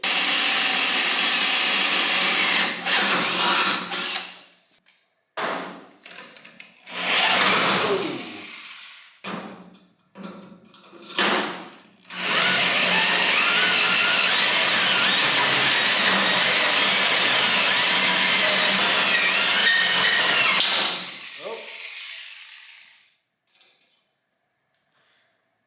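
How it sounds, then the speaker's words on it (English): Angle grinder with a thin cutoff wheel cutting a rounded-square hole in a metal flatbed on an OBS Ford F250, a loud high-pitched whine broken into several short bursts, then one long continuous cut before spinning down. "So I'm gonna cut this hole, and then connect the lines with skinny wheel."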